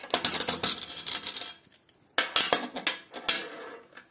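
Quick-release adjusting lever on a homemade welding table screw clamp being worked, giving a run of bright metallic clacks and rattles, a short pause, then another burst of close metal clinks.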